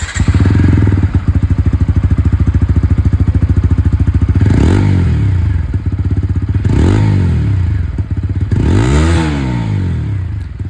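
TVS Apache 160 4V motorcycle with bullpup exhaust idles with a loud, close, rapid thrum, revved three times in sweeping swells that fall back to idle.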